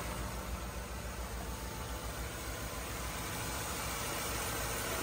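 Ford F-150 engine idling with its AC compressor engaged and spinning, a steady, even mechanical hum with broadband hiss that stays constant throughout, without any voices.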